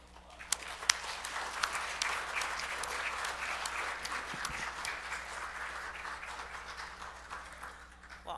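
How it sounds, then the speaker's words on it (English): A synagogue congregation at an Erev Shabbat service gives a sustained round of applause, dense and steady from start to end, with a few sharper individual claps standing out near the start. "And I think let's give them a round of applause."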